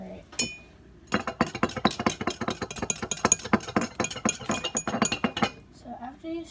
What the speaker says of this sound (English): Then just stir it.